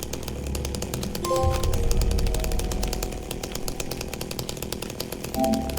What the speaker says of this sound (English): Alright, here's the chainsaw right here.